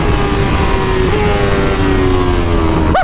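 BMW M 1000 RR factory superbike on a racetrack, its engine screaming in a sustained high-pitched wail, fairly loud and steady before a brief pitch swoop at the end.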